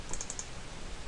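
A computer mouse clicks four times in quick succession while a file is extracted, the small sharp taps faint over a steady low background hiss.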